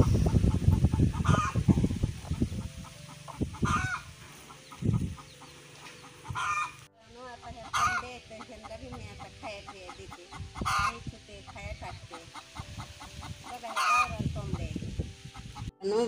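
Hen with chicks on a village farm, repeated clucks and sharp calls in irregular bursts, fairly close, with thin chick peeps scattered between and occasional faint background sounds.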